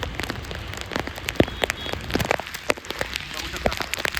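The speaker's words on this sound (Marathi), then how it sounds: "मित्रांनो, तुम्ही पाऊस पाहू शकता." Rain falls steadily on a hike outdoors, a close continuous hiss of drops broken by frequent louder splats and taps, with no talking.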